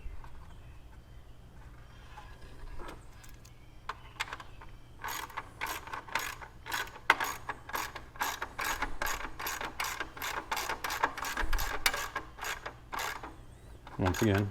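Rapid ratcheting clicks of a socket wrench turning fasteners on the gauge cluster housing of a 1972 Chevelle SS, starting sparse then running in quick, even bursts, close and crisp, with no talking.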